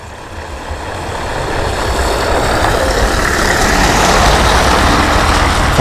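A heavy ERF lorry engine rumbles steadily in a lorry park, growing slightly louder as it draws near, with a deep low drone and broadband road noise throughout.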